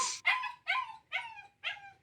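Dog whimpering and yipping, played back from a recording: five short, high, whiny cries in a steady rhythm, fairly close and clear with no talk over them.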